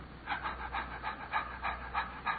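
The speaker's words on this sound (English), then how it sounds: "most people's normal breathing" Ordinary, relaxed breathing demonstrated as an example of normal breath, heard as a steady series of soft, close, rhythmic breaths, about eight in quick succession, alone without talk.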